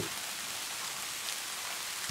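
Steady rain falls outside at night, a soft continuous hiss spread evenly throughout, ending with a brief louder low thump.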